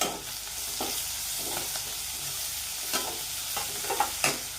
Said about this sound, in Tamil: நம்ம வெண்டைக்காய் இதில் போட்டுக்கலாம். போட்டுட்டு நல்லா சேர்த்து வதக்கிக்கலாம்.